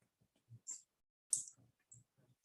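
Typing on a computer keyboard during a library committee meeting: a sparse handful of soft key clicks and taps at an uneven pace, faint and close, with no talk.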